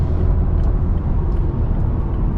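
A Toyota Tacoma SR5 with the 2.7 liter engine at full throttle gives a steady, loud, low engine drone heard from inside the cab, droning on evenly without any clear rise in pitch.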